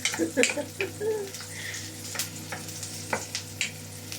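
Onions frying on a very hot tawa, a close, steady sizzle with scraping and stirring clicks coming in uneven bursts, faint talking in the background.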